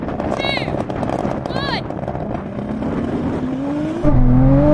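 A rallycross car's engine roars and revs hard as it accelerates away in a drag race, loud and close, with rising engine tones and a shift in pitch near the end.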